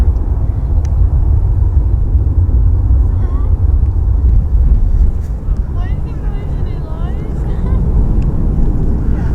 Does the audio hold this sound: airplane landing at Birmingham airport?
yes